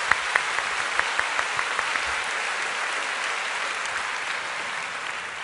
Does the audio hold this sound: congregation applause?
yes